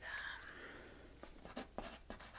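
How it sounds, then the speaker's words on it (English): Pen scratching across paper in a quiet office setting, a few short close strokes after a soft opening, rendered in a gentle whispery style. "let me just write that down for"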